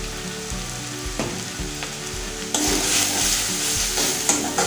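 Chili powder and turmeric fry in a pan, a close sizzle with a few stirring scrapes, then the hiss swells louder and brighter as the spices hit the hot oil, no talk.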